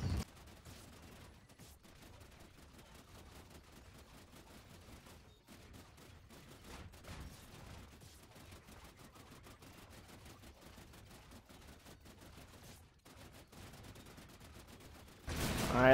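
Head Cutter wonder weapon firing in the Call of Duty Spaceland zombies mode, a long stream of rapid, steady shots at moderate loudness, continuing without pause, ending in a louder burst.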